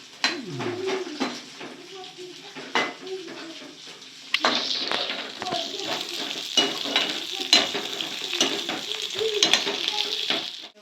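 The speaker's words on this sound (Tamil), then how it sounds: "இப்போ வெங்காயமும் கேப்சிகமும் லைட்டாக வதங்கிடுச்சு" Onion and capsicum sautéing in a kadai, with rhythmic scraping stir strokes over a soft sizzle, a voice talking intermittently and bird calls in the background.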